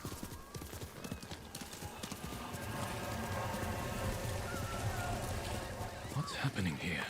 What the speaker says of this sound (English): I'll be launching this game, riding my horse, doing a couple things.